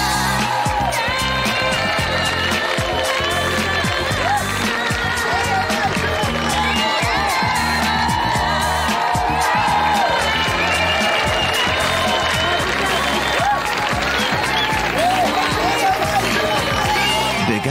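A huge crowd at a concert in a dome arena cheers and applauds in a dense, loud, sustained roar, with a music-like layer of tones running through it.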